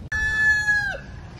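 A rooster crows once from chickens kept in mobile chicken tractors on a farm, a loud, clear, sustained call lasting under a second that ends with a falling note, with faint outdoor ambience afterward.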